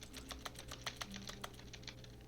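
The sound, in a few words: keyboard noise on interact in video game Stanley Parable Ultra Deluxe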